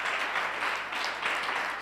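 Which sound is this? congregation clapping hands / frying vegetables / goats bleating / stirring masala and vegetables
congregation clapping hands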